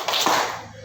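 Two quick claps ring out close together in a classroom clapping game, crisp and fairly close, with no talking.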